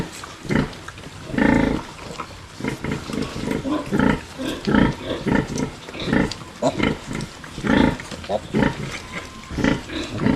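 Young piglets from a farm sow's litter grunting in quick, repeated bursts, close and fairly loud, with overlapping snorts and squeals forming an uneven rhythm throughout.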